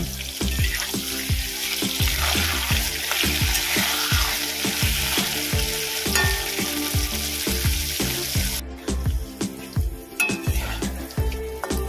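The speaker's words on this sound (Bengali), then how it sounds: "আমি নুন দেবো, এটা একটু ভেজে নেব।" Salted potatoes fry in oil in a pan with a loud, continuous sizzle, broken by regular scraping strokes of a spatula stirring them throughout. No talking.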